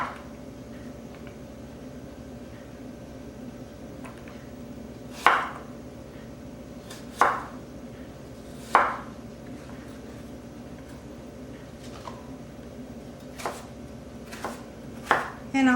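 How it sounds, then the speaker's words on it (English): Knife slicing apples thinly for an apple cranberry pie, heard as a handful of sharp, separate cuts spaced a second or two apart, fairly close and moderately loud over a quiet kitchen background. "So I'll slice my apples rather thin."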